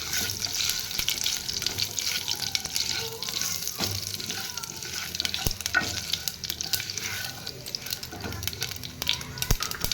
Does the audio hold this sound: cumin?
yes